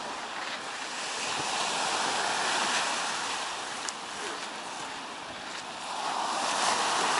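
Waves rolling onto a Baltic beach at Svetlogorsk, a steady surf wash swelling and easing in gentle surges, moderately distant, with light wind across the microphone and no talking.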